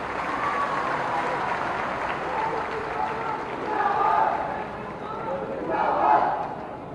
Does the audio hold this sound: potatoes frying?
no